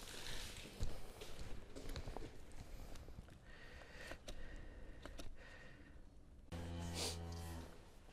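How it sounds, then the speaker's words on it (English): Cattle being worked into a cattle crush shuffle and move about with occasional low moos and snorts, fairly faint and distant, with a louder lowing call near the end. "another group of cows come into the crush here again"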